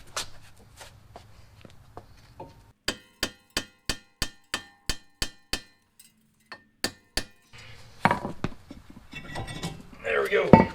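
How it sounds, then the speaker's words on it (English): Sharp metallic hammer blows ring out one after another on a stuck brake rotor on the front hub of a 2012 Chevy Equinox, about a dozen evenly spaced clangs, followed by shuffling and scraping noise. "You want to hit in between the wheel studs, or kind of hit here just to try to free it up"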